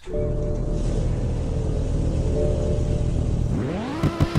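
In the Roblox game Greenville, a 2008 BMW M5 engine holds a steady, loud idle-like drone, then revs sharply upward with a rising pitch and a few quick throttle blips at the end.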